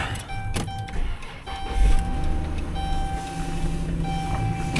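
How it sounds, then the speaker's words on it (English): A used car engine idles with a steady hum and a thin whining tone from a pulley accessory running through it, close and continuous, with a few clicks near the start. "A little accessory noise there, something on a pulley."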